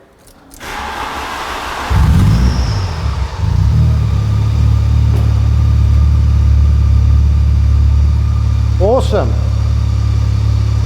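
A VW Golf GTi 16-valve engine starts and settles into a deep, thuddy idle, loud and close, with a brief blip partway through and a short spoken word over it.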